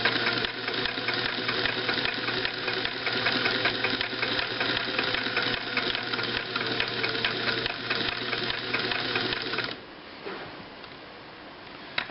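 A Singer 328K sewing machine stitching a zigzag runs with a steady rapid mechanical clatter and knocking rhythm, close and continuous, then stops abruptly leaving faint handling noise.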